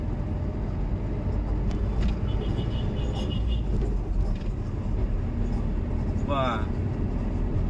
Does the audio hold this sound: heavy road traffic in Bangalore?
yes